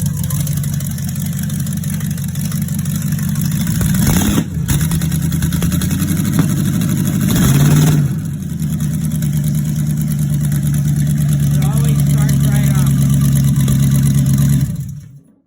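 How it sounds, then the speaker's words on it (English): An LS-swapped 1956 Willys Jeep engine starting cold and settling into idle, loud and close, with a couple of brief revs before a steady low rumble that cuts off near the end. "So let's do a cold start."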